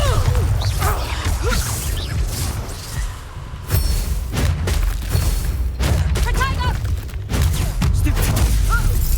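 A Bombarda spell explodes in combat in the game Hogwarts Legacy amid heavy, booming low rumbles, crashes and whooshing magic effects, with spoken spell incantations over the dense, loud mix.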